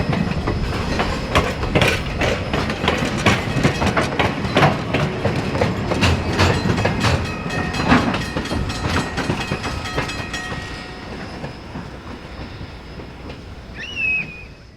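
A steam train with 1930s heavyweight passenger cars and a caboose rolls steadily along the rails with a continuous rumble and rhythmic clickety-clack, easing off near the end with a brief high squeal.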